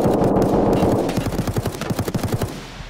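Rapid automatic gunfire in the video game Escape From Tarkov on the Shoreline map, a fast rattling burst of shots after a loud muffled blast, close and dominant with no talking.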